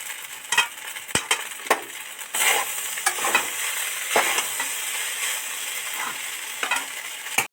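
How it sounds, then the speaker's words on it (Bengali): Fried vegetables being stirred into flattened rice pulao in a pan, Bengali style, with a steady soft sizzle and repeated scraping strokes of a spoon close by, no talking. "যে ভেজে রেখেছিলাম যে সবজি কটা সে কটা এর মধ্যে আস্তে আস্তে ছড়িয়ে দেব একটু ছড়িয়ে দেবো একটু নেড়ে দেবো"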